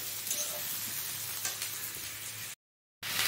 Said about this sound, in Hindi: अब हम मीडियम आंच पे इसके थोड़ा भूनेंगे